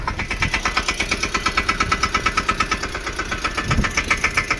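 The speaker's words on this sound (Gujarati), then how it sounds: "હરિભાઈ ટ્રેક્ટર સ્લેબ માં લીધા." A Yuvraj 215 tractor engine idles steadily nearby with a loud, rhythmic chugging knock that continues without pause.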